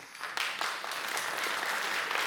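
Audience applause at a year-end studio concert: a dense, steady clapping crowd that starts quickly and holds at an even level throughout, with no voices on top.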